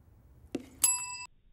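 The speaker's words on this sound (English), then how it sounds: "he'll hit the bell" A bell is struck once by hand in a reaction test. A faint thump comes just before a bright, close ding that rings briefly and then stops.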